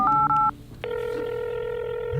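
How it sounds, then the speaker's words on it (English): A telephone sounds a few short dialing tones followed by a steady ringing tone, close and clear with no talk. "I'm phoning a friend."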